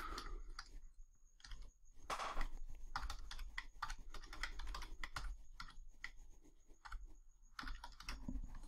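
Rapid, steady typing on a computer keyboard while editing web page text, dense close key clicks running almost continuously with only brief gaps.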